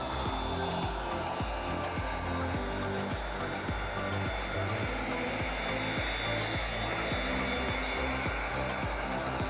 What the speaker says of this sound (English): This trigger on this heat gun,